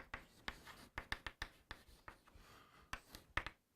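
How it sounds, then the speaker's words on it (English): Pen writing out notes, with quick scratchy strokes and taps in an irregular rhythm, close and fairly soft, with no talking. "let me write down the objectives"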